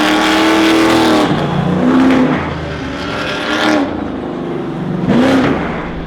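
A Ford GT's engine roars loudly as the car takes a jump into a corner, the pitch climbing and dropping in repeated rev surges as it lands and accelerates away.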